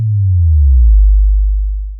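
A synthesized sine wave tone: one loud, pure, low hum that slides slightly downward in pitch and holds steady for about two seconds before cutting off.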